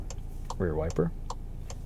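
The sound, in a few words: car rear wiper ticking, 2025 Volkswagen Taos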